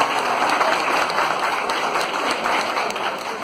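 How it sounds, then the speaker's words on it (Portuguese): A crowd at a market reopening ceremony in Monte Alto, São Paulo, applauds Doctor Elias Badur with dense, steady clapping that carries at full loudness throughout. "uma salva de palmas, doutor Elias Badur"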